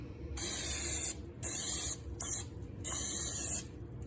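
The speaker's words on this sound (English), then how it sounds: "give it a quick spray." Three short bursts of cooking oil spray hiss close up into an air fryer, each lasting about half a second to a second, separated by brief pauses.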